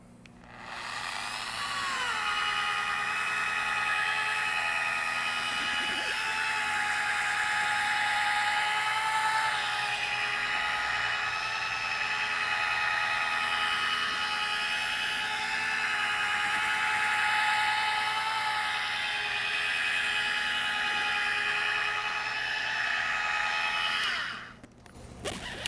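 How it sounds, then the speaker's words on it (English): Machine polisher spinning at a low speed setting while working product into car paint, a steady whirring whine that holds for over twenty seconds with slight wavering pitch, close up, then winds down and stops. "I'm gonna go ahead and turn on my machine polisher to a low speed setting"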